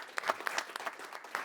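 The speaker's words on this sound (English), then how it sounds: "Big round of applause for you." Small audience applauding at a startup pitch event, a brief patter of scattered claps, fairly faint and thin, lasting just over a second.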